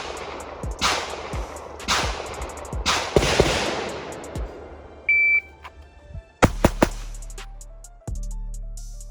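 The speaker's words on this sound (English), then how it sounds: "Third stage, draw and 3 shots to the top box." Gunshots fired at a shooting drill, several sharp loud cracks spread unevenly, with a shot timer beep partway through and a later cluster of rapid close shots.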